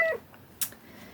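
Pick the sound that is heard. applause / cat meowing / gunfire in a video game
cat meowing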